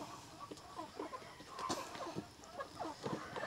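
Chickens, Dominant CZ F1 and Rhode Island Red, cluck at feeding time on a farm in Cebu, with a dense, overlapping flock chatter of short calls at steady moderate loudness.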